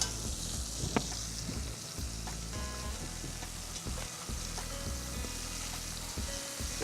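Chopped garlic and ginger sizzling in a hot pan alongside braised pork shoulder, a steady close frying hiss with small crackles and a few light utensil taps, no voices.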